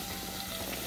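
Garlic sizzles in olive oil in a pan as the base for cuscuz paulista, a steady crackling hiss throughout, with no voices heard.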